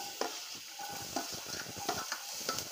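Vegetables, cabbage, carrot and peas, fry in a hot non-stick pan while being stirred: a steady close sizzle broken by frequent scraping and stirring clatters.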